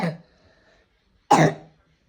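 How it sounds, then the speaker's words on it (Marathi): A child with a cold coughs twice, a short cough at the start and a louder, harsher one about a second later, close and alone against a quiet room. "पण तिला खोकला सर्दी पण आहे आणि आज जास्तच आहे"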